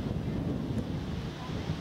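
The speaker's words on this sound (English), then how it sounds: "Well, it's terribly windy up here." Strong wind buffets the microphone at Niagara Falls, a steady low roaring rumble that fills the whole stretch without letup.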